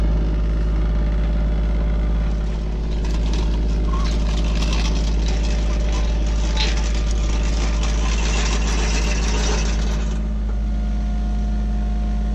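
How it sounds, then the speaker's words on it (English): A 20 hp tractor engine runs steadily at idle on a farm during hay moving, a constant low rumbling drone with a strong low hum, close and unbroken throughout with slight background noise. "got the tractor going"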